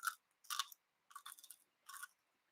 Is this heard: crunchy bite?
yes